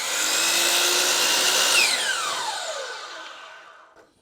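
A power saw cuts wood trim for a barn-style chicken coop, a loud sustained whine through the cut that then drops in pitch as the blade spins down and fades out.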